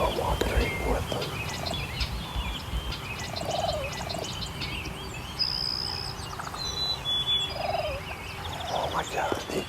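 A wild turkey tom gobbles several times in a spring field, mid-distance and clear above a rustling, breezy outdoor background, with scattered chirps from other birds.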